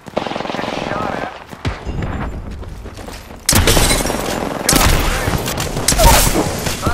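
Gunfire erupts in the battle royale shooter Apex Legends, a rapid automatic rattle at first, then heavy booming volleys of close shots mixed with game sounds, while a player's voice talks over it.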